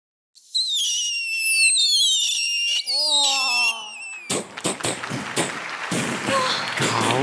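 A performer on a televised talent show imitates firecrackers with the voice: first rising and falling whistles like rockets climbing, then a rapid string of sharp, loud crackling bangs.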